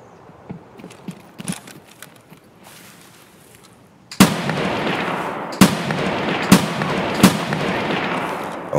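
Four loud, sharp gunshots ring out at irregular intervals in the Escape From Tarkov video game, with quieter in-game activity before the first shot.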